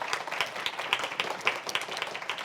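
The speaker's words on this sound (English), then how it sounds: "Let's give them a round of applause and a welcome." An audience applauds to welcome a panel of MPs at a community sector political event, with moderate, steady clapping from a medium crowd heard at a slight distance.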